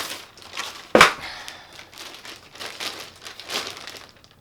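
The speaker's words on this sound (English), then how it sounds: "I just ripped some of the paper." Paper wrapping around a Nike Air Jordan 5 sneaker box is torn with a sharp rip, followed by a few seconds of crinkling and rustling close by, with no talk.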